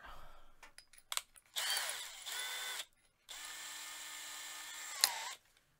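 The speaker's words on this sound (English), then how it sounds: "So now we'll just get the drill out." A power drill whirs in several bursts as it drills into wood for a guitar build, with short pauses between runs and a brief clatter early on, close and fairly loud.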